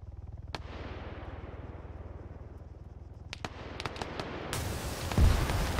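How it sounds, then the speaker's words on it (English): 40mm grenade launcher fire in ARMA 3 over a steady low engine drone, with a few sharp reports scattered through the middle and a louder burst near the end. "40mm grenade launcher to the face."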